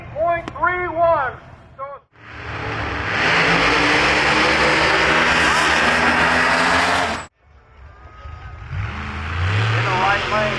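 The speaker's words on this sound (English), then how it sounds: "In the right lane with the Camaro, Scott Carter with the blue Mustang here, tower side" Camaro and blue Mustang drag racing at Milan Dragway in a heads-up series, a loud sustained engine roar held for about five seconds, bracketed by an announcer's amplified commentary before and after.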